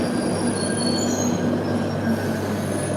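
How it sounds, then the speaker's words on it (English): A London Underground Northern Line train running, a constant loud rumble with a thin, sustained wheel squeal and faint tonal whines, continuous throughout with no speech. "This is the Northern Line train terminating at Kennington."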